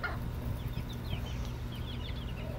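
Hens and chicks cluck softly while pecking at hornwort outdoors, with faint repeated chirps and clucks over a steady background hiss.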